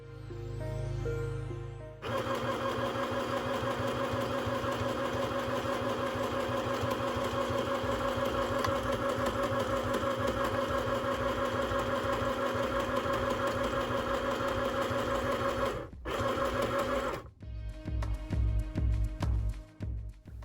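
A Singer M1000 sewing machine stitches denim with a large zigzag stitch for about fifteen seconds, a smooth, even, unstrained motor drone with a fast needle rhythm, then stops and gives a few short bursts.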